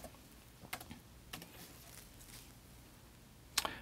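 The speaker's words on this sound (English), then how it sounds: "Now I'm gonna type Nokia." Light keystrokes tap on a Surface Pro 3 keyboard, a few soft scattered clicks close by in a quiet room, ending with one sharper louder click.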